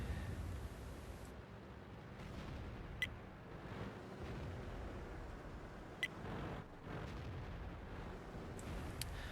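Heavy tank cannon fire booms in a World of Tanks clan war battle, a dull, continuous rumble of distant shots with a few sharper reports standing out.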